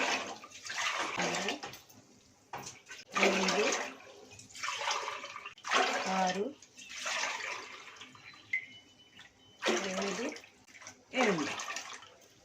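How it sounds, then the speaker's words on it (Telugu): Water poured from a lota into a vessel while preparing rice flour vadiyalu, heard as about seven separate splashing pours with short pauses between them, fairly quiet and close. "ఎనిమిది లోటాలు నీళ్ళు పోయాలి"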